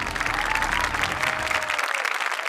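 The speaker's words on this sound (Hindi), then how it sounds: "तालियां होनी चाहिए।" Loud, dense applause and crowd noise from a live audience at a reality show grand finale, with a faint falling tone running underneath before the clapping thins out near the end.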